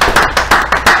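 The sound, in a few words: audience applauding boxers on set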